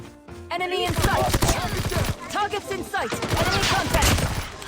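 PPSh-41 submachine gun in Call of Duty Mobile fires in sustained rapid bursts, loud and close, with someone talking excitedly over much of it.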